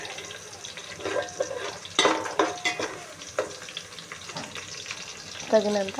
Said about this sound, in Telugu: బాగా డీప్ ఫ్రై చేస్తున్నాము